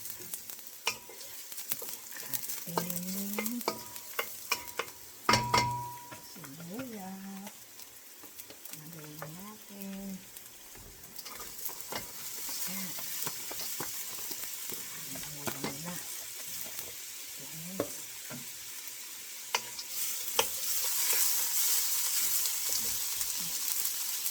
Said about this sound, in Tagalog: Nahalo ko yung sibuyas.